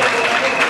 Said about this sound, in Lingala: je demande à l'Assemblée de vous applaudir frénétiquement